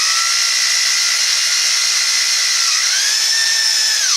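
A power drill spins the oil pump shaft of a Studebaker engine being prepped for reinstallation, giving a loud, steady high whine that holds level for several seconds, then slides up in pitch near the end, with no talking.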